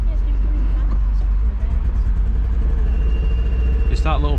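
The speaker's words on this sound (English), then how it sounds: "What is that noise? The ticking noise?" A 1970s Ford Cortina engine running rough, a loud low steady drone with uneven pulsing heard from inside the car, while people talk over it throughout.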